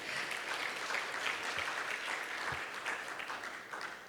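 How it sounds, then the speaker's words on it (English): A plenary and awards ceremony audience gives sustained applause for partners, an even wash of many hands clapping throughout, fairly distant and moderately quiet. "Please, a round of applause to all of our partners"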